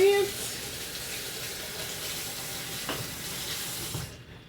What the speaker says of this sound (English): I'm gonna step on over here to my tool zone, and I'm going to rinse.